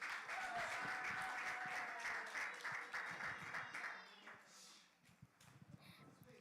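Audience clapping for Miss Kaylee at a National Action Network gathering, a thin, scattered round of applause that rises and then fades out, with voices talking over and under it.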